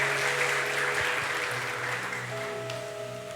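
A church congregation claps in a steady, continuous round of applause, with sustained organ or keyboard chords playing underneath throughout.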